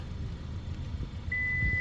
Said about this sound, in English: if I press and hold them, it'll start beeping